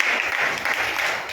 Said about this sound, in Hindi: बजाओ ताली इसके नाम।